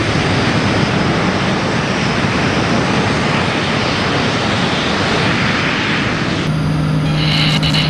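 A Canadian Snowbirds jet roars loudly in a steady, broadband takeoff rush that holds for several seconds, then gives way to a quieter whine with a tonal hum near the end.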